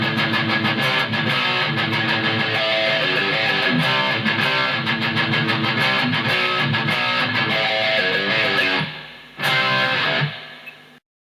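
Distorted electric guitar chugs through a thrash-metal riff, a dense, loud, continuous stream of palm-muted notes and variations that cuts out with a short final burst near the end.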